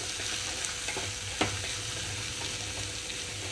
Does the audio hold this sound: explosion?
no